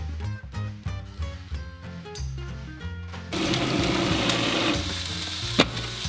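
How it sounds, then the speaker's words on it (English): A food processor whirs steadily as it blends a cheese spread, with the motor noise starting partway through and running continuously over background music. "I'm gonna use a food processor because this is nice and fast for me"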